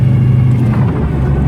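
A 1933 Ford Vicky five-window coupe with a 383 engine drives slowly through light traffic, its steady low engine rumble loud and close, with no talking over it.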